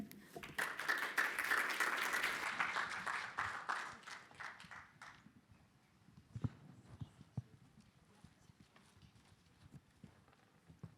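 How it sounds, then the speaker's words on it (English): Audience applause at a digital medicine conference session in Budapest, loud and dense for about five seconds, then thinning into scattered claps and quieter room noise. "A round of applause,"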